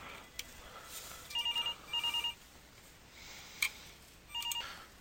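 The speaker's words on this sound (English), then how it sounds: "Sorry, my phone was ringing there for a second." A mobile phone ringing nearby with a repeating electronic ringtone, short pulsed tone bursts in groups with gaps between them, over a quiet room hiss and with no one talking.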